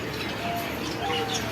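Newly acquired pet pigeons coo close by, a continuous soft murmuring broken by light chirps, with no clear pauses.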